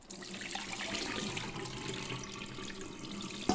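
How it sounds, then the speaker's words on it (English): Water from a pot of boiled noodles pours steadily into a sink for Thai pad see ew, a continuous close rush and splash that ends with a brief clunk. "I'm gonna drain the water out"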